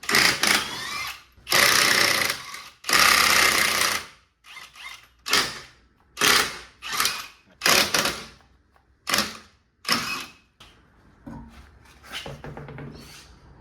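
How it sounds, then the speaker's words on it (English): Wheels being removed from a Ford Focus XR5, with repeated loud bursts of a power tool, likely an impact wrench spinning off wheel nuts, separated by short pauses and a few quieter mechanical clicks near the end. "Just going to take the wheels off first."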